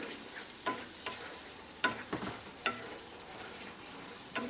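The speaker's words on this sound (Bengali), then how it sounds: "মশলাটাকে খুব ভালো করে কষিয়ে নিচ্ছি।" Spice masala sautéed and stirred in a pan while cooking a steamed egg kofta curry, with a steady soft sizzle under sharp spoon scrapes and clanks against the pan at irregular intervals.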